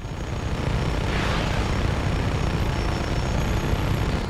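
A helicopter in the video game Just Cause 3 drones loudly and continuously with a dense low rotor rumble and hissing engine whine, close and steady throughout with no voices.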